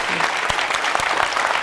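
Steady, dense clapping from a small indoor audience at an Apple Store in Berlin saluting Tori Amos, with faint talk briefly heard under the applause.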